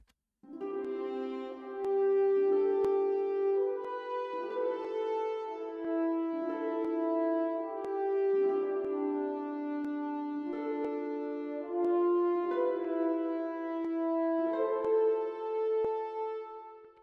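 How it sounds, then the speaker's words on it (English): Brass horns play a slow, legato melody in a warm mid register, sustained phrases moving step by step without accompaniment. "that's just the horns playing a melody line on the white note"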